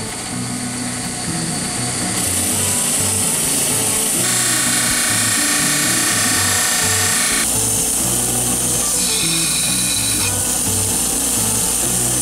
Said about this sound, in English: Now I'm going to bring this over to the wire wheel very quickly